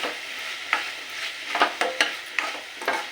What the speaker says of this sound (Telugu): ఇలా బాగా మిక్స్ చేసుకుని మొత్తం అంతా మిక్స్ అయ్యేలాగా